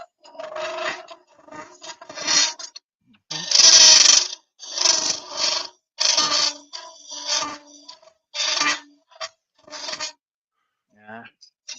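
A bowl gouge cuts wood on a lathe in a series of loud, separate raspy scraping bursts, each lasting under a second, with quiet gaps between them.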